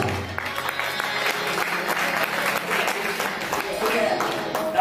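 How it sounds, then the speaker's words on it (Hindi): Applause from the audience at a Haryanvi swang (nautanki) folk theatre performance, steady clapping filling the space with voices and music mixed in beneath. "ताली बजा दो"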